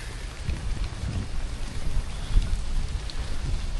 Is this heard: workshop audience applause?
no